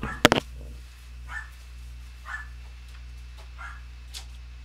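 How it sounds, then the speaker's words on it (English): After a sharp knock, a house dog gives a few short barks and yips spaced about a second apart, moderately distant over a low background hum. "My dog's barking at nothing."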